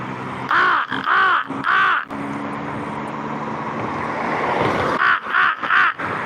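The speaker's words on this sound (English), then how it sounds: "Look, there's another one of my crow buddies." A crow caws outdoors beside a road, three loud harsh calls in a quick row, then a pause filled with traffic or aircraft rumble, and another burst of three caws near the end.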